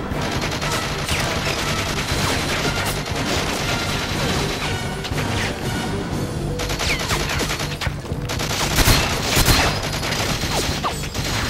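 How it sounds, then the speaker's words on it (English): Gunfire in GoldenEye 007 for the Wii crackles in rapid, overlapping bursts with occasional louder crashes, a busy, sustained firefight lasting the whole stretch. "who the hell am I getting shot at from?"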